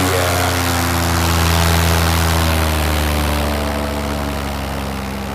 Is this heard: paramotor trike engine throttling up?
yes